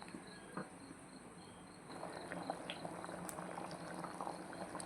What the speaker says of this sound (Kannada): ಹಾಲು ಸಹ ಇದಕ್ಕೆ ಹಾಕಿ ಕುದಿಸಿ, ಒಳ್ಳೆ ಕುದಿಸಿ